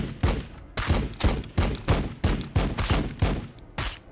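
Rapid volleys of gunfire from a swarm unit in the Warhammer 40,000: Battlesector video game, about ten sharp, loud bursts in a steady rhythm, each shot cracking in close succession with a quick decay.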